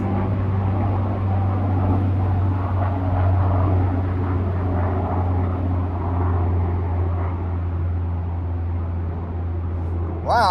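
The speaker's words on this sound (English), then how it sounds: "I can hear the helicopter. I can't see it." A helicopter, probably military, flies overhead out of sight above a catfishing spot on a Friday morning. It gives a loud, steady low drone and rotor rumble that holds for the whole stretch, with a brief sound near the end.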